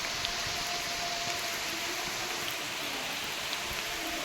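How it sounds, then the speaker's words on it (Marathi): Rain falls heavily along a rural path, a soft, continuous wash of drops with a faint flowing-water quality, fairly quiet and unchanging from start to end. "पाऊस आला भरपूर हे बघा"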